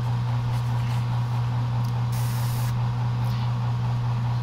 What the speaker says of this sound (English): whatever's left in the nozzle will spray out, so it's a good idea to spray away from your target initially